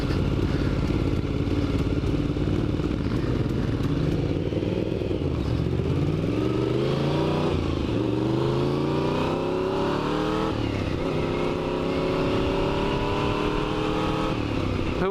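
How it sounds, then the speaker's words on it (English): A Honda VFR motorcycle with thirty-year-old brakes is ridden on the road, its engine droning loudly and continuously with rising and falling revs as it accelerates through the gears, heard close from the rider's position with wind noise. "Who would have thought my first ride on a VFR would be this VFR?"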